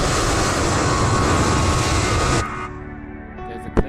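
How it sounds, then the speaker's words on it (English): Airliner engine roar near London Heathrow, loud and steady broadband noise that cuts off abruptly partway, leaving a quieter hum with a brief sharp knock near the end. "There's a plane."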